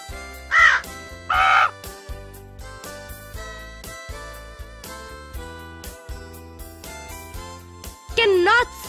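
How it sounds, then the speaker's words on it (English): A crow gives two loud, harsh caws in quick succession at the start over steady background music, and a voice speaks near the end. "Crow."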